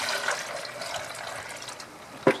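Water runs and trickles steadily during homebrew wort recirculation for a beginner brew-in-a-bag blonde ale, a soft continuous flow ending with a brief knock near the end, with no speech.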